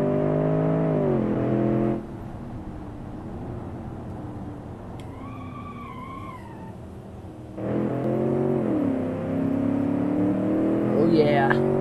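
Engine drone of a car driven in the Automation game, a steady harmonic whine that drops off, dips and then returns as the revs climb, with a brief higher tonal chirp in between.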